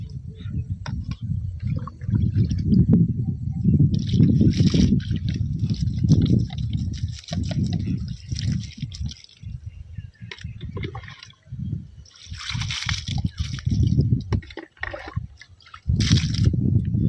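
Water is poured from a mug onto vegetable plants in a farm plot, giving close, continuous sloshing and splashing in repeated pours.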